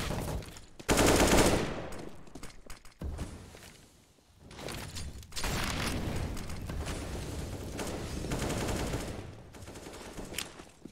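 Rapid automatic gunfire from a Counter-Strike match on de_inferno, with loud sustained bursts and fusillades, a brief lull midway, then more continuous firing.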